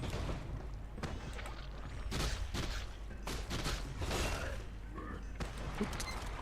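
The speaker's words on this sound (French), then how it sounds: "J'aime bien l'explosion que ça fait." Explosions in the video game Warcraft 3 Frozen Throne come as a burst of rapid booming blasts and crackling impacts spread across several seconds at moderate loudness.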